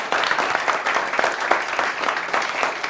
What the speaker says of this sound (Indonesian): Gue mau kita semua kasih tepuk tangan buat tamu-tamu kita.